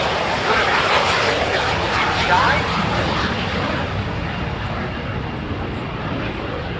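A swept-wing jet roars through its flying display at Yeovilton Air Day 2017, a loud, steady, broadband rush with a brief swell midway, while a commentator's voice runs faintly underneath.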